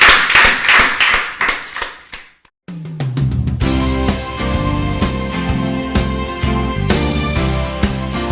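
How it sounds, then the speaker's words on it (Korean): A church congregation claps in rhythm, loud and close, for about two seconds before a brief silence. Then sustained instrumental music begins and continues to the end. "박수 영광 드리겠습니다."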